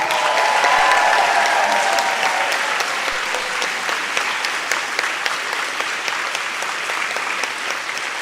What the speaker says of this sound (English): please don't get tired of clapping